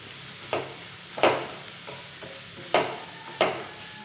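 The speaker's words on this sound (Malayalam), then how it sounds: "ഈ പൊടികളുടെ ആ ഒരു പച്ചക്കുത്ത് പോകുവോളം ഒരു 2 നിമിഷം ഒന്ന് വഴറ്റിയെടുക്കാം." Chili powder and spices sautéed in a pan, stirred with a spoon: about four distinct scraping strokes spaced over a few seconds above a faint, low sizzle, with no talking.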